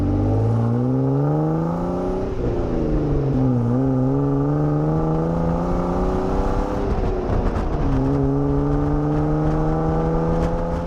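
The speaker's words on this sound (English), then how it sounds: "All right, so engine started." A Jeep engine fitted with a new cold air intake and a 91-octane tune revs and accelerates steadily during a drive, its loud drone rising and falling through gear changes.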